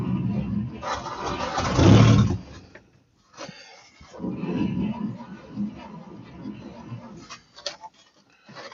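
A 1953 Chevy truck engine cranks and tries to catch, with a loud burst of churning and revving near the start. Rougher engine noise and clatter continue after a brief lull, with no one talking.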